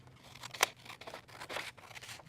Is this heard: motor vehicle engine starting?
no